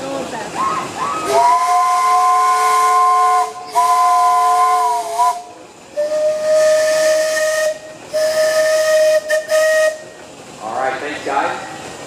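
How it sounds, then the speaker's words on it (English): Loud steam whistles from steam engines in a town parade blow in several long sustained blasts with brief gaps, steady and piercing with a hissy edge, and no voices. "let's hear some whistles"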